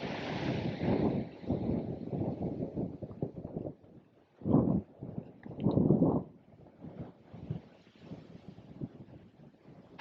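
Strong cold wind at the Tidal Basin in Washington DC buffets the microphone in heavy roaring gusts, rising and falling over several seconds, loud and close, with no talking.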